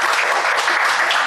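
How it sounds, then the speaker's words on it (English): An audience applauds at a talk on Nigerian labour force statistics. The clapping is dense, loud and steady, and it fills the whole short moment. "Please, another round of applause for him."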